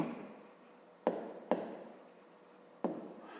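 Pen writing out a math expression by hand during a fifth-grade arithmetic lesson: soft, continuous scratching strokes broken by three sharp taps, close and quiet, with no talking.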